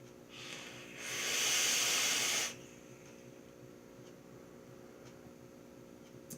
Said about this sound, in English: And I'm still vaping it.